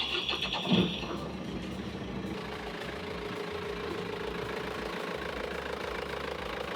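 A boat's engine is started and runs at the dock, with a brief rising start-up burst followed by a steady, low, knocking idle that continues throughout.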